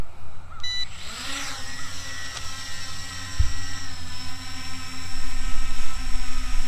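A HolyStone HS720G GPS drone spins up its motors for takeoff, a rising whine that settles into a steady hum. The buzz stays fairly quiet and grows slightly stronger as it lifts off, with no one talking.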